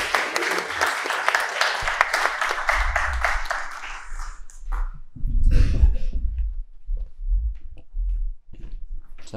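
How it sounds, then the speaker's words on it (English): Audience applause at a debate on whether it is rational to be a Christian, a burst of brisk clapping for about four seconds that quickly fades, followed by low thumps and brief murmurs. "If you wouldn't mind applauding as he gets up,"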